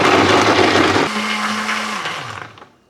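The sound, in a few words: mixing ingredients with a blender for Jordanian mansaf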